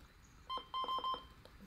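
Button beeps from a First Alert WX150 weather radio powering on: four short, clear electronic tones in quick succession, evenly spaced, close and distinct against a quiet room.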